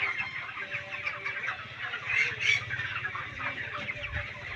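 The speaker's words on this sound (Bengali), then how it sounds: "এই ঘরে মোটামুটি প্রায় 2000-এর মতো পোলট্রি চাষ করা হচ্ছে।" Chickens cluck continuously inside a poultry house holding about 2000 birds, a dense, steady chorus of many hens at moderate loudness with no talk.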